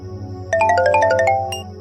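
A phone rings with a bright electronic melody of rising and falling tones, starting abruptly after a moment of low hum and playing loud and close, with no speech.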